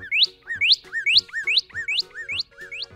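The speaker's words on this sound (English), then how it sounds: "They hear a bird calling." Repeated bright, rising two-note bird calls, about six in quick steady rhythm, clear and fairly close, with faint low hum beneath.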